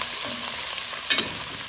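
Meat and fat crackle as they fry in a pan, a constant hissing sizzle broken by a couple of sharp pops near the end, close and without talk.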